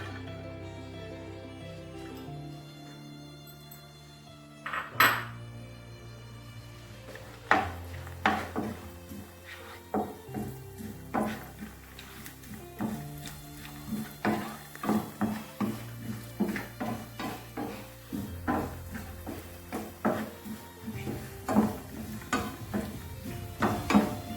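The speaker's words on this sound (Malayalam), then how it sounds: "അപ്പം നമ്മൾ ചെയ്യേണ്ടത് തേങ്ങാക്കൊത്തിടുകയാണ്." Coconut pieces frying in hot oil in a pan for Kerala-style chicken thoran, with a faint sizzle under repeated sharp spatula scrapes and clinks that grow busier and more rhythmic as the stirring goes on.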